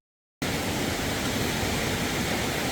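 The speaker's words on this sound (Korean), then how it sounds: "남교리 분소 입구 계곡의 물살이 대단합니다." A rushing mountain stream roars through the valley at the Namgyo-ri ranger station entrance in Seoraksan, a dense, constant, loud wash of water that starts abruptly after a brief silence and holds steady with no voices.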